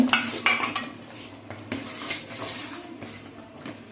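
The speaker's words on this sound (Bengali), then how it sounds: "এখন একটু নাড়াচাড়া করব" Semai vermicelli pudding with cashews, raisins and dates is stirred in a metal pot, the spoon clinking and scraping against the sides in a few close, sharp knocks followed by softer scrapes.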